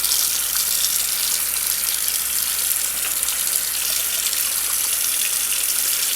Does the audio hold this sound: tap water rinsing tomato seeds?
yes